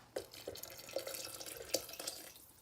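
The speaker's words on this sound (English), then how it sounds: "I'm going to top that up with a little bit of water because it's not quite up at the minimum level." Water is topped up into a Morphy Richards soup maker during an apple and parsnip soup recipe, heard as quiet splashy trickles and drips arriving in short irregular bursts, with no talking.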